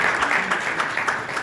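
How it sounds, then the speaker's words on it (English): Audience applause at an awards ceremony, a dense, steady wash of many hands clapping that holds at an even level throughout, with no voices on top. "can I ask you to give yourself a round of applause?"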